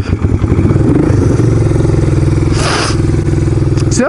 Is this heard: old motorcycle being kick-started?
yes